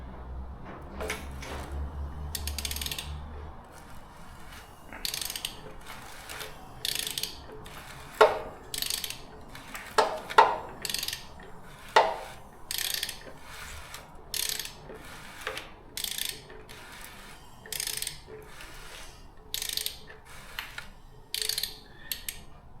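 A ratchet wrench cranks an engine over with the spark plugs fitted, giving a series of close, crisp clicking bursts in an irregular rhythm, with a few sharper metallic clunks along the way.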